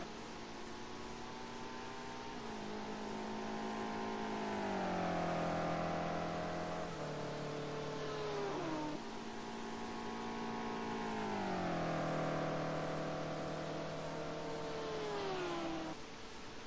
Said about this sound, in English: That BMW is just the dullest sounding GT car I think I've ever heard.